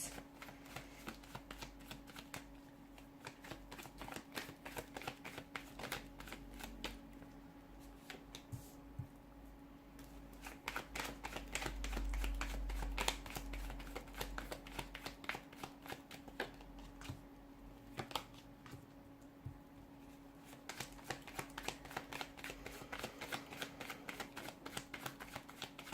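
Tarot cards are shuffled in a steady, quiet run of crisp riffling clicks and flutters, close and dry, continuing at length with no talking.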